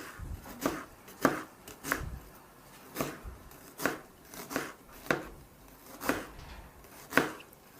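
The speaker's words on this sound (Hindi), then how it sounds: "जो हमारा प्याज था वो कट के तैयार हो चुका है" A knife chops onions on a board, about a dozen sharp, close taps in an uneven rhythm with brief gaps between strokes.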